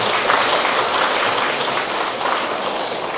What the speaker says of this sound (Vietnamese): Chúng ta hãy